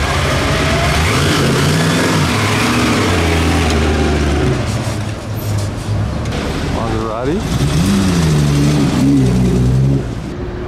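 A 1936 Alfa Romeo vintage car at the Mille Miglia, its engine revving loudly and rising and falling in pitch as it accelerates close by, with other engines and a voice talking briefly over it.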